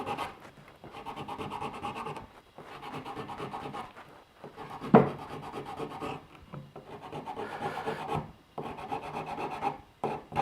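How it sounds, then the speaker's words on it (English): Rasping strokes of 80 grit adhesive-backed sandpaper on a block rubbing a KIALOA 'Oha wood outrigger paddle, steady and close, in repeated bursts with short pauses between passes. "Or you can use like sandpaper. This is like 80 grit sandpaper."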